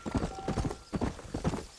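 A horse in the video game Red Dead Redemption gallops at speed, its hoofbeats a rapid, rolling clip-clop, close and fairly loud, for a couple of seconds.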